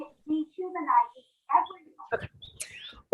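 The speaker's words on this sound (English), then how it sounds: "You'll hear some birds chirping," Birds chirp in a backyard with pool water fountains running, bright short tweets and a rising whistle coming out between bits of nearby talk.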